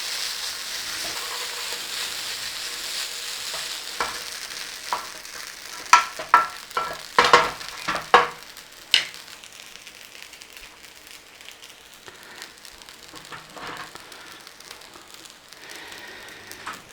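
Beef browns in a hot frying pan with a steady close sizzle and crackle, broken by a run of sharp metallic clanks and scrapes as the pieces are stirred, then settling back to frying; no talk.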